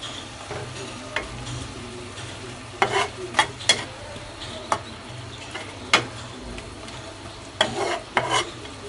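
A pan of sun-dried fish being stirred after a teaspoon of salt goes in, a dish to which broad bean seeds are added next. Sporadic scraping strokes and clicks sound over a low, steady sizzle, near and fairly quiet.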